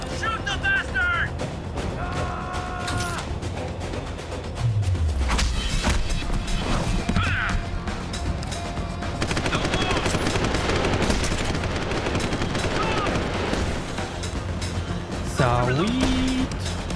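Gunfire in Deus Ex: Human Revolution comes as loud machine-gun bursts and single shots mixed with game effects, with talk over the action.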